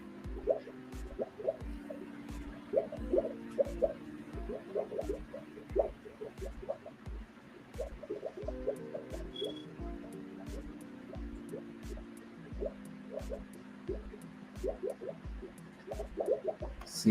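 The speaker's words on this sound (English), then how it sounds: "It's the witch's cauldron over here" Soft, regular bubbling like a witch's cauldron, a steady run of low plops and gurgles, close and faint, with a little murmured talk now and then.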